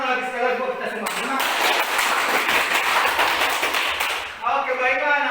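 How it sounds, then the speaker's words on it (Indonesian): A classroom of students clapping together, a dense burst of rapid applause lasting about three seconds, set between stretches of a teacher's speech. "tepuk tangan lagi sekali lagi buat kita semua"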